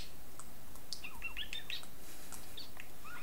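A pet budgie gives a scattering of quick, high chirps and tweets, fairly faint over a soft steady background hiss.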